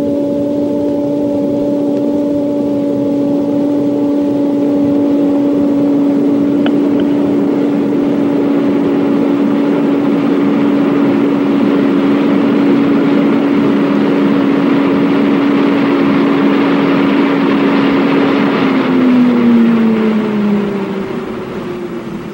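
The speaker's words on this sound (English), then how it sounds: "I'm going to increase the airspeed steadily up to about 150 miles per hour" Airflow in a wind tunnel builds steadily toward about 150 mph, a loud, continuous fan roar with a sustained tonal hum that holds, then slides down in pitch near the end.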